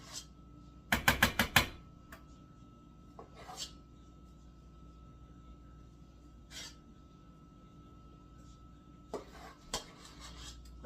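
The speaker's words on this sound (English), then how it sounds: "I'm going to start just dropping the potatoes on top." A spoon drops mashed potatoes onto a cottage pie in a baking dish, making a quick cluster of clinks and scrapes early on, then sparse soft taps and scrapes against a quiet kitchen background.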